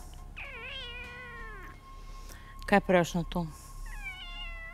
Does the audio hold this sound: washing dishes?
no